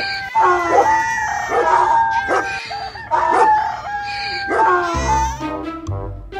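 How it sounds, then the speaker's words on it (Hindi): Dog, donkey and rooster calling together at midnight in a comic story, a chaotic chorus of howls, brays and crowing in repeated loud bursts, with a voice mixed in. "आधी रात को इतने तरह के जानवरों की आवाज एक साथ सुनकर वो डर गए।"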